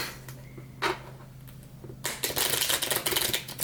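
A few light clicks and taps, then a quick riffle of a card deck, a dense fluttering rattle lasting over a second, close by.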